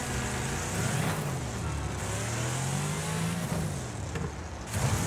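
Several racing cars in the demolition-derby racing game Wreckfest roar continuously at close range, engines droning and shifting pitch as they battle side by side, with a brief louder surge near the end.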